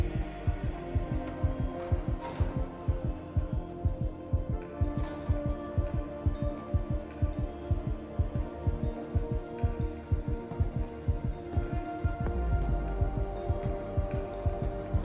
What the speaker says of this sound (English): As evidenced by the heartbeat that's now playing in my ear.